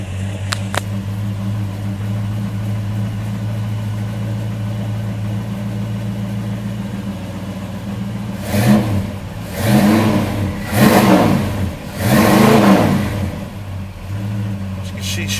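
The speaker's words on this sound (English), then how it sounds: "let's go ahead and try and start this car real quick." A 1955 Chevy 210 with a 468 big block fires up: a loud engine hum holds steady, then several deep, rising revs swell and fall near the microphone, with talk in the background.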